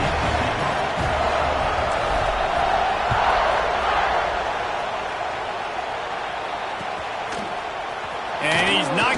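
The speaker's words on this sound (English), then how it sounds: "this crowd is buzzing after that last score" Stadium crowd in a college football video game keeps up a steady, loud roar of cheering and buzz throughout, with brief sharper bursts near the end, under commentary.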